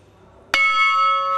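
A single bell from a Swiss glockenspiel strikes once, clear and close, then rings on with a bright, sustained metallic tone that slowly fades.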